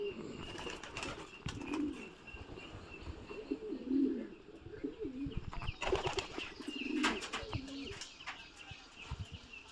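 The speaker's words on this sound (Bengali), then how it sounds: "এগুলো আমাদের কবুতর, অনেক দিনের কবুতর" A large flock of domestic pigeons kept at home, more than a hundred birds, coos in repeated warbling calls while wings flap and clatter in bursts, close and busy throughout.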